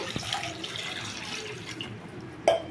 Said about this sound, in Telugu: ఇలా ఒక గ్లాస్ నిండా నీళ్ళు పోస్తున్నాను